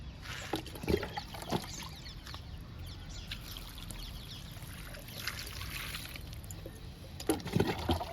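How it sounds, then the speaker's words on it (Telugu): Water pours and trickles quietly into soil around a bitter gourd plant in a tub, with soft splashes coming in short bursts and occasional faint bird clucks in the background. "ఇంకా కాకర మొక్కకి వాటర్ ఇచ్చేద్దాము"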